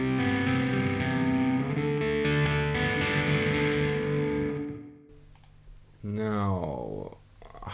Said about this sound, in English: Broken up ambience. That's with the integrated reverb.